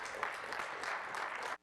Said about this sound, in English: if we could keep the clapping down